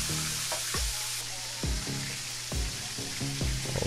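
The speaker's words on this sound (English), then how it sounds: "like fish frying in that pan. All that grease just popping" Pollock fish fries in hot grease in a pan, a loud, dense, continuous sizzle with frequent popping and occasional scraping strokes, close up and with no talk.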